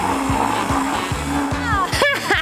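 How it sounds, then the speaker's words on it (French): A kitchen blender mixes fruit for a cocktail, its motor giving a steady, loud whirring drone with a brief surge near the end, heard close up with no talking. "C'est facile avec un mixeur."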